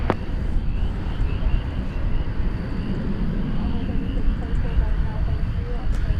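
An airplane rumbles at DFW Airport at night, a steady low broad drone heard from a distance with wind noise on the microphone and a voice talking over it.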